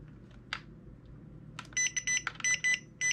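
Electronic beeps from an RC buggy receiver pairing, a quick irregular series of short, high-pitched tones, fairly quiet, after a soft click or two.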